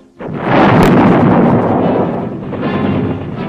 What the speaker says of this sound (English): the artillery blasted them loose